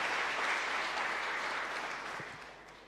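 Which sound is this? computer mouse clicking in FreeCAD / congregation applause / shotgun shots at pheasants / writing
congregation applause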